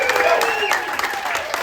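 A live radio-show audience applauds a singer in Minnesota, scattered clapping running briefly under a voice talking over it.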